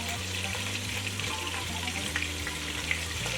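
Ground hamburger meat browning in a hot pan, a steady loud crackling sizzle that runs unbroken throughout, close up with a faint low hum beneath.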